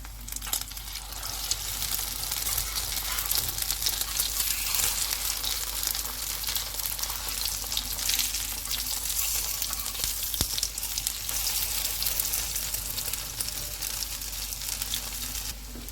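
Potato tikki (cutlets) frying on a tawa, a steady dense sizzle of hot oil that runs continuously and fairly loud with no talking, close up throughout.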